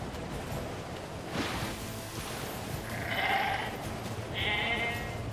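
Boar from the video game Nier Replicant, faint bleat-like calls rising twice over a steady rustling ambient bed, quiet and alone without talk.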